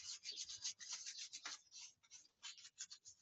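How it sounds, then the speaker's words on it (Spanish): Sandpaper rasps against carved wood in quick, repeated circular rubbing strokes following the carving, close and fairly quiet, distressing chalk paint on a chair being restored. "Voy girando con la lija, generando un desgaste circular, siguiendo el mismo tallado"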